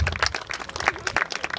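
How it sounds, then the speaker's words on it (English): An audience claps at a community party, a dense patter of hand claps heard briefly and fairly close. "Keep clapping."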